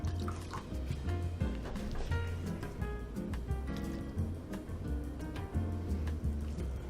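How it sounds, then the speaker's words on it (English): Milk pours into Irish soda bread dough as a steady wet trickle and dribble over a continuous, busy background. "I'm going to add maybe another 1/4 cup. So 3/4 of a cup of milk."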